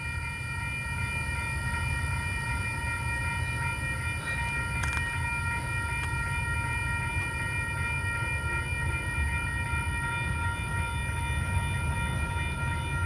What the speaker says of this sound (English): he just sounded his going on horn